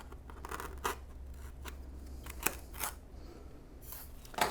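A blade slices foam board in a straight line along a ruler in short, crisp, scratchy cutting strokes, close and clear with small pauses between them and no talking.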